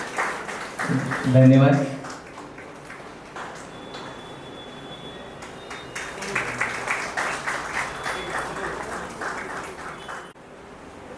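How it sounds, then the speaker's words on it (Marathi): Scattered audience clapping at the inauguration of Jhondhale Law College swells in the second half beneath an amplified voice speaking in a hall, with a brief louder burst of talk near the start. "टाळ्या वाजवण्यासाठी कोणी थांबायचं नाही"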